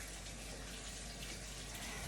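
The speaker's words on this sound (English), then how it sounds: "wash the hands" A tap runs continuously while hands are washed, a steady close gushing hiss of water filling the whole stretch without talk.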